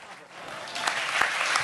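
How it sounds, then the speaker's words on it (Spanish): An audience applauds singer Miguel at a memorial event, a short wash of clapping that swells toward the end, with a voice speaking briefly over it. "venga, fuerte el aplauso para Miguel"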